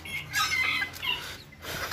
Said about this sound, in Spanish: Tenemos esta pequeña gallina